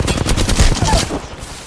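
Rapid video-game gunfire crackles in a dense automatic burst for about a second, loud and close, then fades out.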